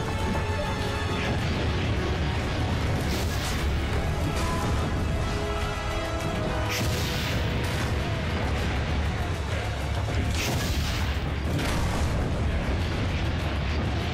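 Cannon fire in the Assassin's Creed Brotherhood video game: a dense, rumbling barrage of booming explosions with bursts and crashes layered over a continuous roar, some blasts standing out louder than others.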